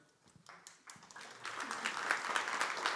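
Audience applause in a lecture hall after an answer during a talk on intelligent design, building from scattered claps into steady clapping over about two seconds, fairly close and moderately loud.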